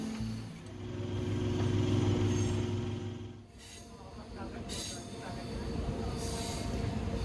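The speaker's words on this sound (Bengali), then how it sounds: "সাঁতরাগাছি থেকে ট্রেন মেন লাইন ছেড়ে ঢুকলো আমতা ব্রাঞ্চ লাইনে" A passenger train runs along the Amta branch line after leaving Santragachi, heard from inside as a steady rumble with a low droning tone and intermittent rattles and wheel noise, moderately quiet.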